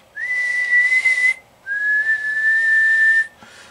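Two long, steady whistled tones into a radio transmitter microphone with a one-tube modulator, close and loud, each held for over a second with a short gap between, slightly different in pitch.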